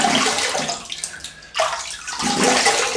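Tap water runs steadily into a sink to rinse a Baby Futur safety razor, a broad continuous splash that briefly thins and dips in the middle, then swells back to full flow, close by with no talking.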